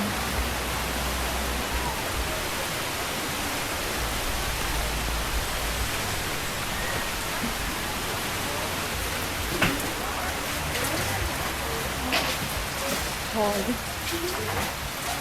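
Steady rain pours down on New Year's Day as a dense, even hiss, with scattered voices talking faintly underneath.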